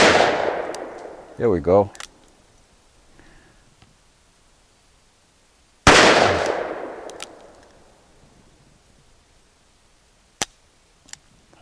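Two sharp .44 Special handgun shots fired outdoors, each a loud crack with a decaying tail, several seconds apart; someone speaks briefly between them.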